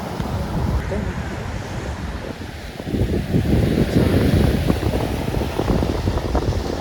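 Waves wash in on a beach where a river meets the sea, a continuous rushing surf that swells louder midway, mixed with wind buffeting the microphone.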